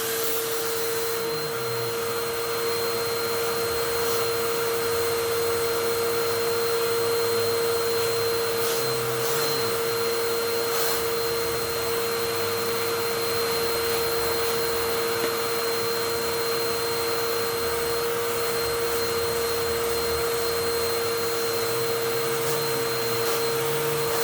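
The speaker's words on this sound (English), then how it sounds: "I'll just vacuum this real quick." A Hoover WindTunnel 3 Pro Pet vacuum runs through its hose tool while cleaning a couch, giving a steady, loud, continuous motor whine and airflow roar that holds throughout with no talking.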